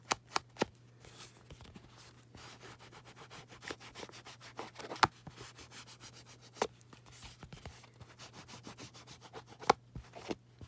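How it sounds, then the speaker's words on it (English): Ink being rubbed around the white edges of an embossed handmade Christmas card, a soft, quiet, steady scrubbing with occasional light taps and clicks. "I'm gonna go ahead and ink around the edges just because I've got some white edges up here."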